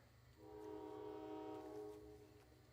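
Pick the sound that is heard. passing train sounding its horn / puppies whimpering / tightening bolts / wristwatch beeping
passing train sounding its horn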